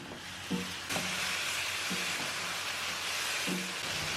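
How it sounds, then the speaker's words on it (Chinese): Chicken browned with salt, soybean paste and dark soy sauce is stir-fried in a wok. A steady close sizzle is broken by several scraping stirs at regular intervals, with no talking. "然后继续给它翻炒均匀，炒出酱香味"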